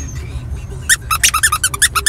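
A squeaky pet toy from a pet store squeaks in a quick rhythmic run of about a dozen sharp, loud squeaks, close by and heard alone over a low rumble.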